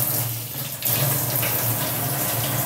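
Water from a tap or jug splashes steadily onto a young money plant seedling, a continuous close running gush with a brief dip before it resumes at full strength.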